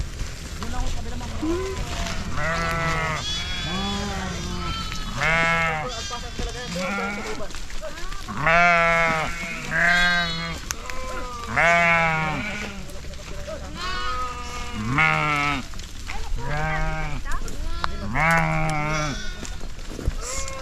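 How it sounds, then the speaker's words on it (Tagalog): A herd of goats and sheep on a ranch bleats repeatedly and loudly close by, overlapping calls in a steady stream, with people talking in the background. "Oo, dito yung kambing, dito yung tupa."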